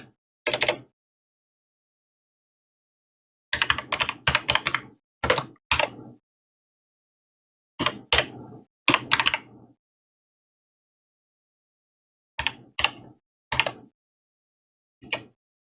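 Bursts of keyboard typing in quick clusters of keystrokes, separated by silent pauses, close and clear with no voices.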